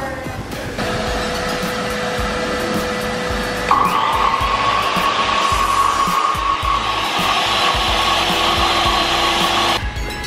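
Panel saw cutting wood in a home-improvement store's wood cutting area, a steady whining buzz that rises in pitch when the blade bites, running loud and continuous over store background noise.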